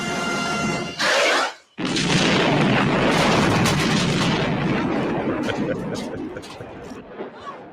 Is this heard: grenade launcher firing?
yes